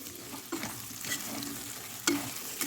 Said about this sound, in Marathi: याला पण आपण दोन मिनिट मस्त परतून घ्यायचं